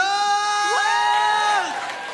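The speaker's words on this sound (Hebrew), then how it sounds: "נו, כפיים. המון מחיאות כפיים." A concert crowd at a musical evening cheers loudly, with sustained, pitch-sliding whoops and shouts from several voices close by; clapping is not clearly distinct.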